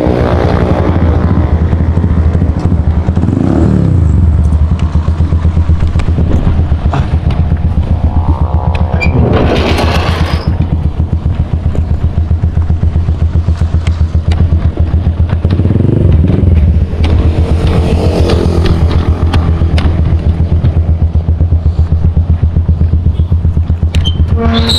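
Steady motorcycle engine drone throughout, loud and close, with the pitch rising and falling as the rider shifts and accelerates.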